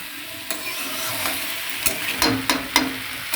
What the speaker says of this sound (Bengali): চলো আমি ভালো করে এবার ত মশলা দিয়ে ফুলকপি দিয়ে কষবো